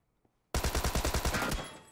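Automatic gunfire in a shooter video game, a fast burst of about ten close, loud rounds that starts abruptly after a short quiet moment and fades out at the end.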